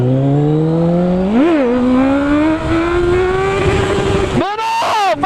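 A motorcycle engine close up, revving as it accelerates through the gears with rising whine, a brief dip at a shift, then a sharp drop and fresh surge near the end, loud and continuous under wind noise.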